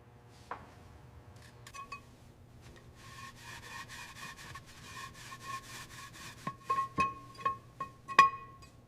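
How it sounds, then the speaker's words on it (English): A stiff brush scrubs grime off a four-blade cooling fan from a 1920 Ford Model T, making a quiet, steady rasping rub in close detail with a few sharper knocks and scrapes near the end. "This 4-blade cooling fan has years of grime, but with a bit of cleaner and a stiff brush, we can reveal the original factory black."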